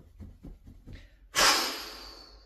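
A single strong exhalation during a shoulder-pumping breathing exercise, done with the hands opening wide, comes as a loud breathy rush that follows a few soft sniffs and breaths and then slowly fades.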